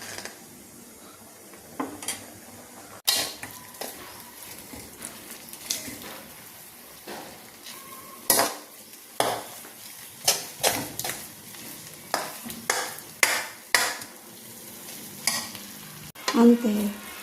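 Wheat rava upma stirred in a pan on the stove: a spoon scrapes and knocks against the pan in repeated strokes, with a soft sizzle underneath, close and fairly loud, no talking.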